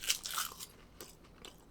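Crisp crunching and biting on a salted seaweed-like snack from Korea, bought from a vending machine in Japan; a loud first bite followed by several softer, close chewing crunches, with no talking.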